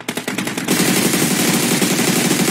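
Rapid automatic gunfire from a mobile shooter game: a quick stuttering burst of separate shots at the start, then a dense continuous roar of loud fire held steady to the end.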